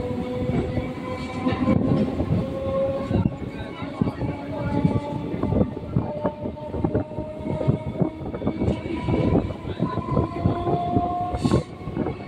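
A Sealdah–Budge Budge local train pulls out of Santoshpur station with a loud, close, continuous rumble and rhythmic wheel clatter. Sustained horn-like tones rise above it.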